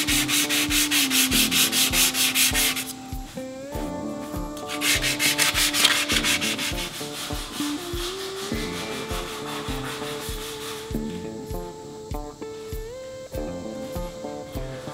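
Close, continuous abrasive sanding of surface rust off metal tubes, harsh rhythmic rubbing strokes with a droning hum running underneath and shifting in pitch, no talk.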